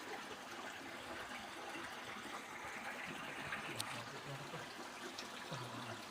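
Faint, continuous trickle of a tiny stream in a valley ecosystem near a village, steady and low with outdoor ambience and no voices.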